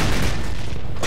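One loud, booming gunshot is fired into the sky in the Call of Duty shooter game, a heavy blast filling the whole moment and rolling off at the end.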